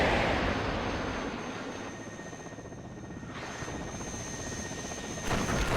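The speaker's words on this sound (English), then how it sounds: "They do have an Mi-24 coming in here that's going to start trying to take out our tanks." A Mi-24 attack helicopter flies overhead in WARNO, a loud, dense rotor roar with steady engine drone that dips slightly mid-way and swells again at the end.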